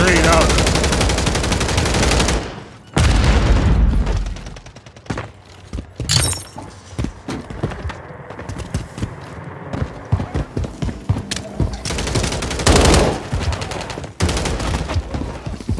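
Gunfire in the multiplayer mode of Call of Duty Modern Warfare 3, with loud bursts of automatic fire and rapid single shots crackling through, broken by short quieter gaps.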